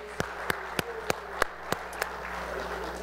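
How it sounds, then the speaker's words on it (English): In a church service, a single person claps about seven sharp, evenly spaced times over a quiet room for a choir, then stops, leaving faint background murmur. "Let's give the choir another round of applause."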